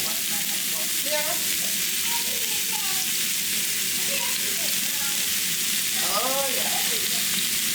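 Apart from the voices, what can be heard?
stir fry sizzling in a pan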